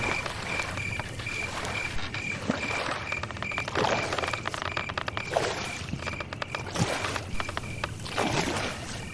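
A boatman rowing a boat across a river, a steady wash of water with rhythmic splashing oar strokes and a faint creak repeating through the passage, close by, with no talk.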